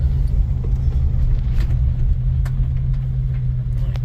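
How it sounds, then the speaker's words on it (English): A Jeep YJ Wrangler with a 4.6 stroker engine idles and rolls through a U-turn on a mountain hairpin, a loud, steady low engine rumble from inside the cab. "I'm actually going to be making a U-turn because I'm going to be heading back down the mountain"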